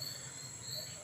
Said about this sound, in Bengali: পুকুর ঘাটে। এইখানে এসে ব্যাঙের ডাকগুলো শোনা যায়,